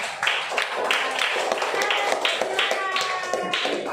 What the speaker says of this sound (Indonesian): Tepuk tangan dulu dong buat mereka.